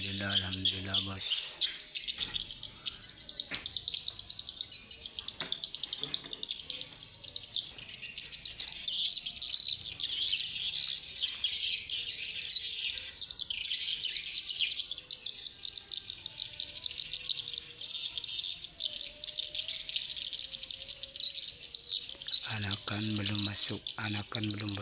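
At dusk, a large swarm of swiftlets pours into a roosting house with constant shrill twittering and chirps that fill the air. Someone speaks briefly at the start and again near the end.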